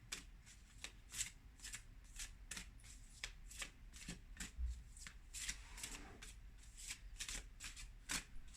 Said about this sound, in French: Je vais faire donc le tirage pour conseil amoureux, l'oracle de l'amour.